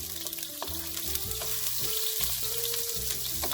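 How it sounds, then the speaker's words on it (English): Onions fry and caramelize for efo riro, a steady close sizzle with a few soft stirring scrapes, moderately quiet. "You want to caramelize the onion."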